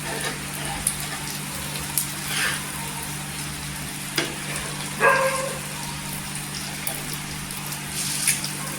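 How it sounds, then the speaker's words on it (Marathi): Eggs fry in ghee and oil on a hot tawa, giving off a steady, close crackling sizzle with occasional small pops and spatters, and nobody speaks. "परफेक्ट अशी फ्राय करून घ्यायची"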